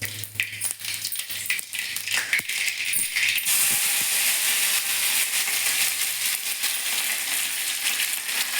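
Mustard seeds and curry leaves hit hot oil in a pan, setting off a loud, steady sizzle that swells and holds close up after earlier crackling and popping, with no voices.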